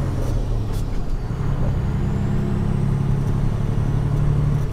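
Heavy truck engine droning steadily at close range through a 10-speed manual shift into eighth gear, low rumble holding even with a faint rise in pitch, no voices.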